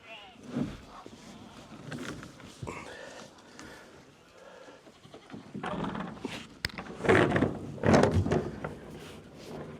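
Goats bleat several times on a farm, some calls close and loud, mixed with shuffling and a person speaking quietly nearby.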